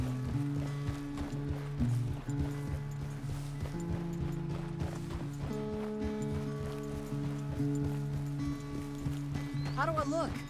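Horse hooves clip-clopping at a steady walk in the Red Dead Redemption 2 game world, moderately close, set under sustained background music.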